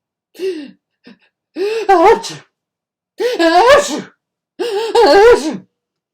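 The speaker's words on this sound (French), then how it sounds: "Tout le monde éternue." A voice acts out a run of exaggerated sneezes, about four loud, voiced bursts spaced a second or so apart.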